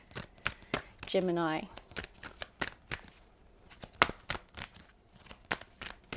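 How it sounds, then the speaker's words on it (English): Quick riffling and snapping of tarot cards being shuffled, a run of sharp crisp clicks, with a voice speaking briefly in between. "I'm going to shuffle and pull the cards."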